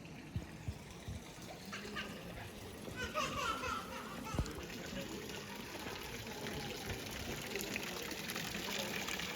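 Water flows steadily at Lake Bregenz, a continuous outdoor rushing and trickling that runs under faint background voices throughout.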